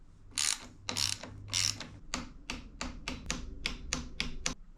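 A torque wrench ratchets the bolts of a Fox 36/38 bolt-on mudguard to 5 Newton meters, producing a close, steady run of sharp metallic clicks in quick succession with no one speaking.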